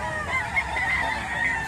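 Chickens at a busy Saturday market in Lipa, Batangas, their calls blending into a steady wash of crowd noise without one call standing out clearly.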